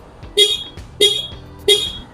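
Three short, bright horn beeps from a Yamaha Aerox 155 scooter sound at an even pace, each one crisp and close, with quiet gaps between.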